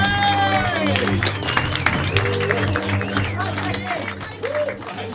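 Audience applause at a live main event show, a broad wash of clapping and crowd noise running under a loud host voice and tonal music throughout.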